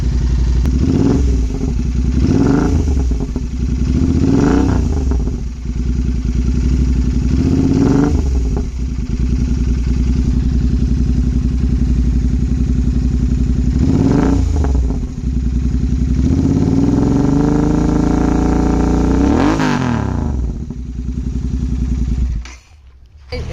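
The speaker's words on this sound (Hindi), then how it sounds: "तो नाउ मैं रेव कर रहा हूँ।" A heavily modified Royal Enfield GT650 motorcycle with a 180-section rear tyre idles loudly and close up. Its parallel-twin engine is blipped repeatedly into sharp revs that rise and fall, with one longer climb near the end, and no talk is heard.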